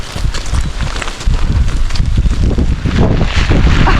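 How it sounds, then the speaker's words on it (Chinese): A strong wind and heavy rain storm hits during a family hike on an active volcano, with loud, steady roaring gusts and a rushing hiss that runs unbroken through the whole stretch, with no voices. "这个风雨也太大了吧"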